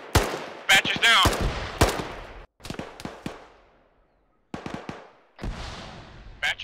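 Rapid bursts of automatic gunfire and single shots crack in a military squad video game, loud and close, separated by short pauses.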